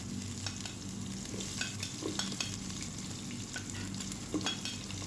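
Finely chopped garlic and ginger fry in hot oil with mustard seeds for kadhi pakora, giving a low, even sizzle with light stirring taps, quiet and close with no voices.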